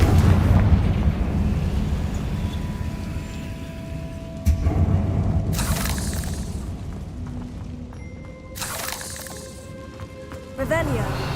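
A Confringo blasting spell goes off in the Hogwarts Legacy video game, with a few loud broadband bursts and rumbling booms over continuous game music and ambience. No one speaks.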